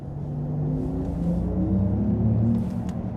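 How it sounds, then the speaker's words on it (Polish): Steady low drone of a Porsche Macan 4 electric SUV cabin on the move, with a faint rising electric motor whine over road rumble. "czy słychać cokolwiek podczas jazdy, czy ten silnik elektryczny jakoś słychać"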